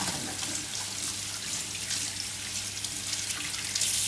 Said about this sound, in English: That's how you wash your hands.